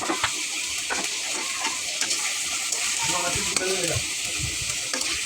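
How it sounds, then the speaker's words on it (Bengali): Browned onions fry with ginger garlic paste for a spicy chicken bhuna, sizzling continuously as they are stirred with repeated scraping strokes, close and steady, with a brief voice in the background. "বাদামি হয়ে এসেছে পেঁয়াজগুলি এখন আমি একটু আদা আর রসুনের পেস্ট দিয়ে দিলাম"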